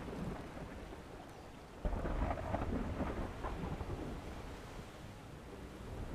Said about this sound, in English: Crazy storm going on now.